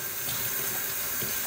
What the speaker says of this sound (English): Okay, I'm gonna rinse the first one out.